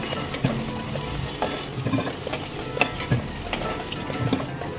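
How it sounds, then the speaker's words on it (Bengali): Potatoes frying in hot oil in a pan sizzle continuously, with irregular scraping and stirring knocks as they are moved about, close and moderately loud. "তেল গরম হয়ে গেছে, এবার ভেজে নেব আলুগুলো।"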